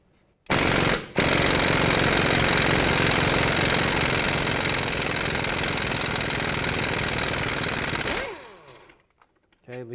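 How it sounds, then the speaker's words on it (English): A socket wrench removes the axle nuts on a 2003-2007 Nissan Murano front driver-side CV axle, using a 22mm socket while a 17mm holds the bolt. One loud, continuous rapid hammering rattle lasts about eight seconds, then cuts off abruptly. "I'm going to remove these 2 nuts with a 22mm socket, and I'm going to hold the bolt side with a 17 in case it wants to spin."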